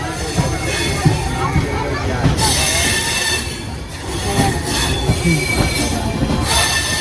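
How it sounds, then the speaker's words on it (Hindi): A passenger train on the Purushottam Express route pulls out of Gaya station in Bihar, its wheels giving loud, sustained metallic squeals over a steady rumble, with faint crowd chatter in the background. "ट्रेन हमारी निकल चुकी है गया जी से"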